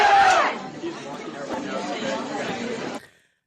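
Crowd chatter inside a coffee shop, a loud burst of voices at the start settling into a steady murmur of many people talking before cutting off abruptly.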